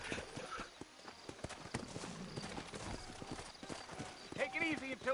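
Horse hooves clip-clop at a steady walking pace in the Red Dead Redemption western video game, mixed with other game sounds, while someone talks over them and a horse whinnies briefly near the end.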